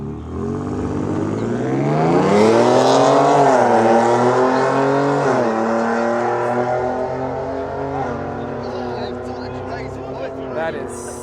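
Drag racing cars roaring down a private track, a loud sustained engine howl whose pitch climbs, dips at gear shifts and climbs again before slowly fading.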